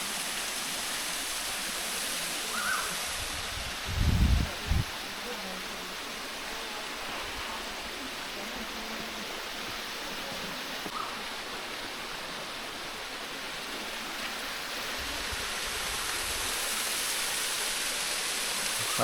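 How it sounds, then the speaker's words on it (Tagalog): Dream Falls in Laguna pours as a continuous broad rushing roar, steady and fairly distant, with a brief low thump early on and no talk. "Ayan ang Dream Falls."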